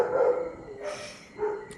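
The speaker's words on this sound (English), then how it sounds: "Apologies about the dog" A dog barks a few times at a distance, short yelping calls spaced apart in an otherwise quiet room.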